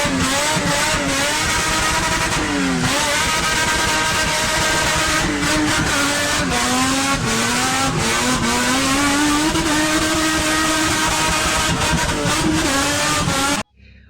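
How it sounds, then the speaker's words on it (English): A BMW E30 races past at speed, its engine note climbing and dropping through repeated revs and gear changes for over thirteen seconds, loud and close, then cutting off abruptly. "Okay, I know that was a speeding car"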